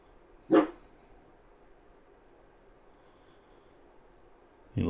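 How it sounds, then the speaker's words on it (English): A dog gives a single close, sharp bark, followed by quiet room hum, then another bark begins right at the end. "He loves to bark."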